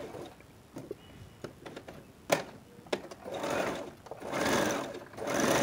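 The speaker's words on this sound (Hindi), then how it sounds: "अब इस पे हम स्टिच कर लेंगे।" A sewing machine stitches fabric for a bow, starting with a few short taps and clicks, then moving into longer whirring bursts of rapid stitching that swell and pause, heard up close.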